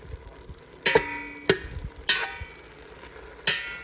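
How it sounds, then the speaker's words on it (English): Onions sautéing in a pot as chili starts, with a few sharp scraping clinks of a spoon stirring at irregular intervals over a faint, low background sizzle. "And then we're just going to kind of stir it in. Kind of let them saute."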